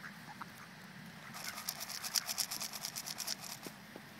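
Ducks being fed, a rapid run of close, bright quacks bursting out in a dense cluster after a quiet opening and then trailing off into a few scattered calls.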